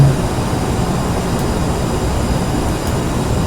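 A CRJ700 jet roars in a flight simulator as thrust reversers engage on landing, giving a loud, continuous, broadband engine rumble that holds steady throughout with no voices.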